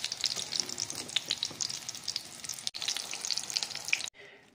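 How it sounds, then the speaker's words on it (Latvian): Food dipped in egg fries in a skillet over low heat, a steady close sizzle with crackling pops throughout, which cuts off abruptly near the end. "miercējam ūļeņa un uz skaurodas ceptīs"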